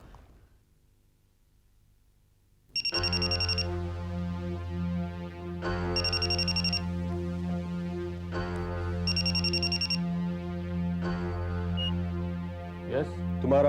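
A telephone rings in repeated bursts of bright, warbling tones over a steady low drone and background music, each ring lasting about a second with short gaps between, loud and close.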